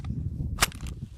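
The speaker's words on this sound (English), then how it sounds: "And a round ejects from the magazine" A single sharp metallic snap as a round ejects from the magazine of a CMMG Dissent MK57 rifle, brief and close over a low room rumble.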